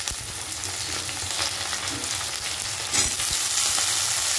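Eggplant frying with lightly browned onions in a pan, a dense continuous sizzle up close with a few louder spatters and bursts as the pieces settle into the hot oil.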